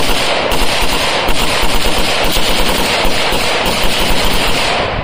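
A gun dumps a full magazine in one continuous, loud, close burst of rapid automatic fire lasting the whole five seconds, with sharp, evenly spaced reports and no talking.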